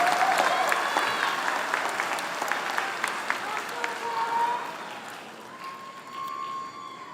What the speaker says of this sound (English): One more round of applause for the 2023 graduates of the professional MBA program